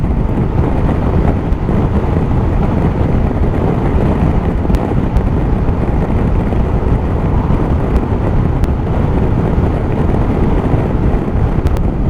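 A 2022 Zontes M310 motorcycle climbs a steep incline at a quick pace, its engine drone buried in loud, constant wind buffeting on the microphone throughout.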